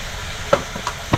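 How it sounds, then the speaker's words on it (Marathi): Garlic dropped into hot oil sizzles in a home kitchen pan, a soft steady frying hiss broken by a few light stirring clinks and spatters spaced across a brief moment. "तेल तापलंय बघा. लसूण टाकायची आहे."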